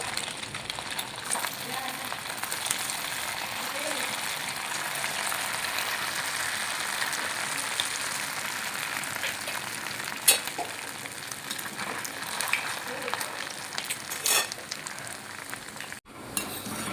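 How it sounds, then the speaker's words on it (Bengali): Semolina dough pieces frying in hot oil give a soft, continuous sizzle throughout, with occasional clinks of a utensil against the pan and a sharp knock near the end; no one speaks over it. "এগুলো আমি তেল গরম করে দিয়েছি এগুলো ভেজে নেবো"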